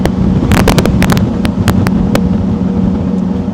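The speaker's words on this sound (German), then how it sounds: "ist doch ordentlich windig" Loud wind buffets the microphone aboard a tugboat in continuous rumbling gusts, with sharp crackling pops in the first couple of seconds.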